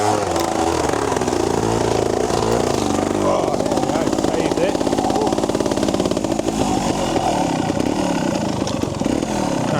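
A trials motorcycle revs hard over a slippery section of a trials course, its engine rising and falling loudly and close for the whole stretch, with wheel clatter and a voice talking over it.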